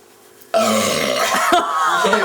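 A loud, long burp sets off abruptly after a quiet start and holds for nearly two seconds, close to the mic, during a burping contest.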